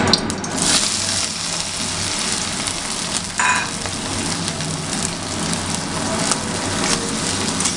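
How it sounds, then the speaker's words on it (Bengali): Onion and chili frying together in hot mustard oil, a steady loud sizzle with crackling spits running throughout, close and alone with no voices. "সর্ষের তেল গরম হয়ে গেছে। এবারে আমরা পেঁয়াজ আর লঙ্কা একসাথে দিয়ে দিচ্ছি।"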